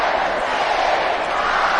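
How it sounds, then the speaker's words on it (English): A rugby crowd at a Hull versus Catalan Challenge Cup match keeps up a loud, steady roar of massed voices as they count down together in a packed stadium. "as the crowd count down"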